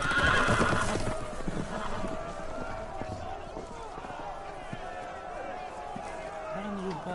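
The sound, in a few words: horses running loose in a video game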